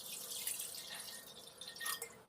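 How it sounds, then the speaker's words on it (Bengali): Water poured into a kadai set on the stove to heat, a steady broadband splashing and trickling that runs throughout at a fairly quiet level, with no talk. "এতে দিয়ে দেবো জল।"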